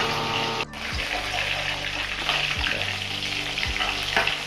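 About 1.5 kg of katla fish fries in hot oil with a loud, continuous crackling sizzle, plus a few scraping clunks of a utensil against the pan, with no talking.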